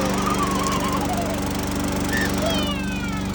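A freshly repaired lawn mower's engine running steadily close by, a loud continuous droning putter with no pauses.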